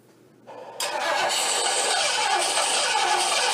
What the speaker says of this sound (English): All right, start the car, Brian.